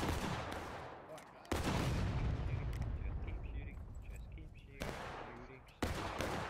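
Volleys of musket fire in the Civil War game War of Rights crack loudly and repeatedly, with dense overlapping shots, echoing booms and bursts of rapid fire, while players shout over the din.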